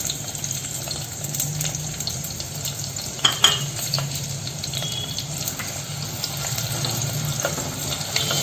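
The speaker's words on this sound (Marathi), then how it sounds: "तो पण आपण फोडणीला टाकून घेऊया" Finely chopped onion sizzles steadily in hot tempering oil for a Malvani chicken dish. A few sharp clinks of stirring come partway through, with no talking.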